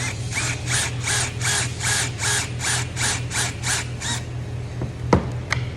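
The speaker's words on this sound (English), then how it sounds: "I don't need any pilot holes with that self-tapping screw" A power drill drives a self-tapping screw without a pilot hole, a steady pulsing whir with rhythmic grinding bursts for about four seconds, followed by a few sharp clicks.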